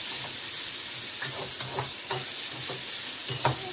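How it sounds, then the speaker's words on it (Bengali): Onions frying in a pan for a raw jackfruit and small prawn curry, a steady sizzle with repeated scraping stir strokes throughout, close and without speech. "শুধু মাথায় রাখতে হবে পেঁয়াজ যেন না পুড়ে যায়, ব্রাউনিশ হবে কিন্তু পুড়ে যেন না যায়"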